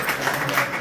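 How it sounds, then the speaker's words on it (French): Brief burst of audience applause at a talk about Forever aloe vera products, a dense loud patter of clapping hands with no voices. "Il faut applaudir."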